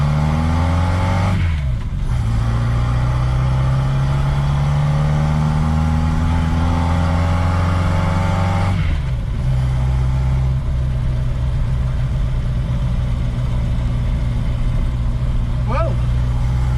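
A 1969 Reliant Regal's engine drones loudly and steadily while driving, shifting pitch twice as it changes gear, with the constant hum filling the whole stretch.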